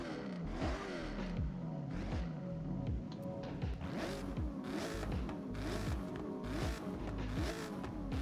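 A car engine in a racing video game revs and accelerates repeatedly, quick rising and falling engine notes with gear-change drops under a whirring, clattering mix, moderately loud throughout.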